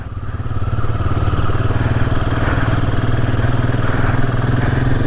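Royal Enfield Himalayan 450 motorcycle running steadily at a ride start, a loud continuous low engine drone with rhythmic mechanical pulsing and some wind rush, without speech.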